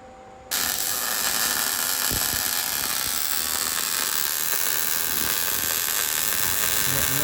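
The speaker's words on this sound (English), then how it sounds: "Getting this side all welded up" Welding on a rusty Toyota Tacoma frame during a repair: a steady, close crackling hiss starts abruptly after a brief quiet moment and runs on without a break.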